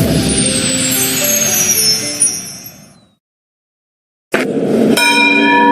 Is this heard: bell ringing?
yes